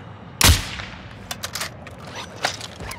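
Gunfire in Call of Duty: Modern Warfare II, with one sharp, loud shot followed by a few scattered quieter cracks spread over the next couple of seconds.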